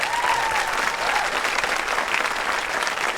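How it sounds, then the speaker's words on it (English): Applause at a band camp gathering for two drum players, including a sophomore tenor drummer. A crowd claps steadily and densely at full volume through the whole stretch, with a brief cheer near the start. "So a round of applause for those two players."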